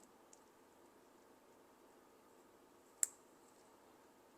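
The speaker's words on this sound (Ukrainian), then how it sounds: "Має бути характерний клік, значить, що вона закріпилась" A single sharp click of a receiver antenna snapping into its mount on a bomber drone, close and fairly faint over a low background hiss, with a tiny tick shortly before.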